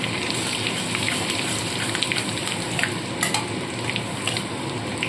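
Crushed ginger and garlic fry in hot oil in a pan and are stirred. A dense, continuous sizzle runs throughout, with occasional sharper crackles and spoon scrapes close up.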